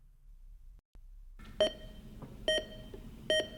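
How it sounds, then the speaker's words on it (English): Three short electronic beeps from an intercom panel, evenly spaced about a second apart, clear and close over a quiet background hum. "You'll hear the intercom beep"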